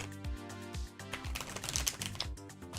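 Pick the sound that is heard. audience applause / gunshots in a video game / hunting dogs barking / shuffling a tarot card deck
shuffling a tarot card deck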